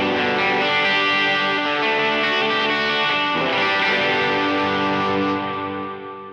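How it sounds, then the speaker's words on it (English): An electric guitar runs through reverb and delay pedals on a pedalboard, ringing out sustained, layered chords with a lush echoing wash that tails off over the last second, with no voices. "I'll show you my reverb in my delay"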